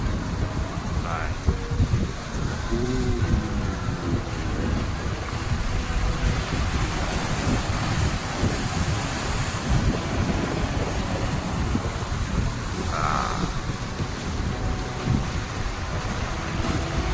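Waves on the open Indian Ocean wash and surge continuously, with heavy wind buffeting the microphone and a couple of brief splashes standing out over the steady roar.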